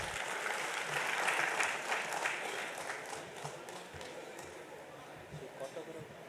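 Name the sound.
convention audience applause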